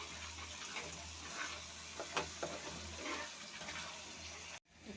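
Water pours in a steady, faint rush over spice paste frying in a pan for capsicum chicken curry, with a few brief bursts of sizzle, and the sound cuts off abruptly near the end.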